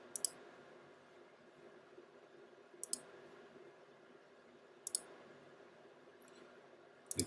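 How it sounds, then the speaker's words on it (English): Several sharp computer mouse clicks spaced a few seconds apart, each a quick single or double click, while an application is being installed on a home media server setup; quiet background with no talking. "Right click on the downloaded application"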